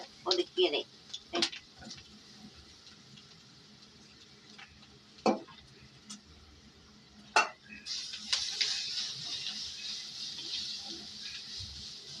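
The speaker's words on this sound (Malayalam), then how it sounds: "വറം മൂത്തതിന് ശേഷം നമ്മളിത് ചെമ്മിപ്പൊടി ഇടുകയാണ് വറുത്ത ഈ കല്ലിൽ" Dried shrimp powder roasting on a hot pan, stirred with sporadic scraping knocks before a steady sizzling hiss swells up for the last few seconds.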